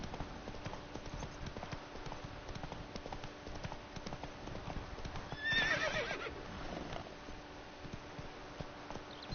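A horse in The Witcher video game neighs once loudly mid-way while its hooves clip-clop steadily underneath, close by.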